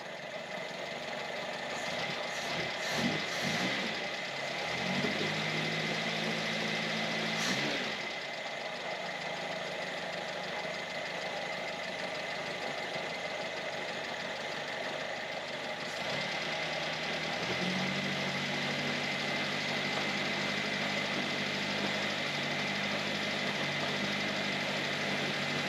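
A rebuilt engine in a 1981 Mazda 626 idles steadily nearby with a faint, regular valve tick from loose rockers, the low hum shifting pitch slightly a couple of times.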